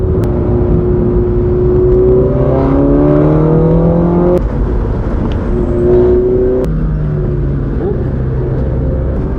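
A race car engine at High Plains Raceway roars steadily and loud, pitch climbing through gears with rising whines and sharp shift breaks as it powers down a straight, heard close from inside the car.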